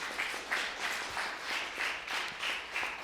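A church congregation applauds Christ Jesus with a steady, dense wash of clapping that surges in soft waves, moderately distant and unbroken across the moment.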